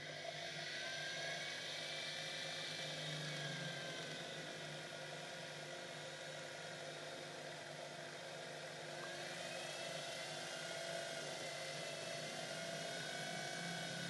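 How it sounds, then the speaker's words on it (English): A small rotary drill whines steadily, a high continuous hum with slight pitch shifts, close and moderately quiet, no talking, drilling silver jewelry into a wooden bench peg. "Make sure you're drilling into the wooden bit of your bench peg, not onto metal"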